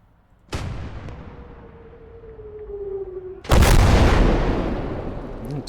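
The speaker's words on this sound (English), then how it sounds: "That's perfect for artillery." Artillery fire in the WWII game Call to Arms Gates of Hell: Ostfront, a loud near boom followed by a whistling incoming shell and a second, heavier blast that rolls off slowly.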